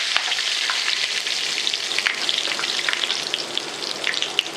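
Curry leaves crackle and spit in hot oil with browned garlic and asafoetida over low gas, a close, dense frying sizzle full of quick pops with no speech.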